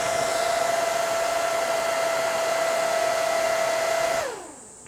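A small jacket cooling fan whirs at high speed with a steady whine and airy rush, then winds down and stops abruptly near the end.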